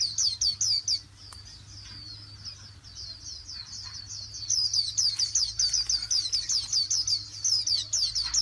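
Japanese white-eyes caught in a bird trap chirp in rapid bright bursts, a busy run of high twittering calls that grows louder and denser midway, with no talk.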